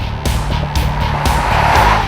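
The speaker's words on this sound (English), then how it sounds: "The engine has a pleasant gravelly sound and it is always quite smooth and peppy." A Mercedes-Benz GL 350 CDI diesel SUV drives along with a loud, close engine drone. Its low pulsing repeats in regular surges over two seconds, with no talk.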